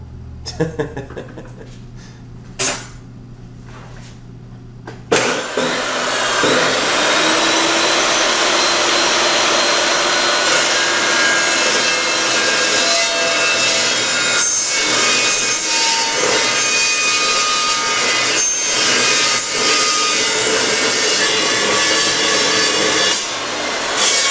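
A saw, not an abrasive one, cuts through a Chrysler 9 1/4 rear end axle housing as it is being narrowed. After a few light knocks and brief handling, a loud, steady grinding cut starts near five seconds and runs continuously to the end.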